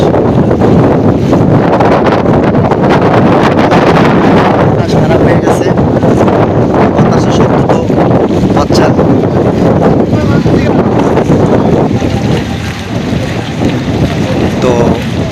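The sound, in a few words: strong wind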